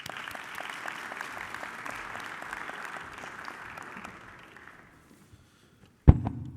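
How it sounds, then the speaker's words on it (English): Audience applause at a senior day forum for the senior class vice president, a lively round of clapping that gradually fades out into near silence, followed by a sudden loud thump near the end. "Let's give Mr. Cowherd a round of applause"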